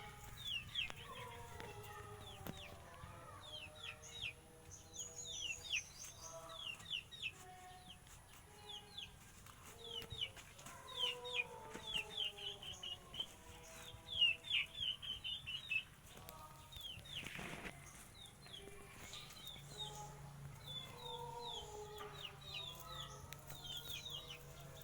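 Backyard chickens cluck and chatter near a nest box being built, a busy run of short repeated clucks and calls at close range, rising and falling over quiet surroundings.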